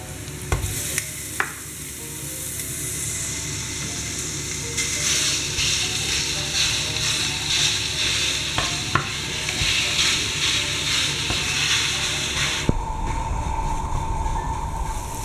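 Meat fries with onion in a pan for a mushroom quiche, sizzling loudly and continuously, while a utensil stirs and scrapes with scattered sharp clacks close by.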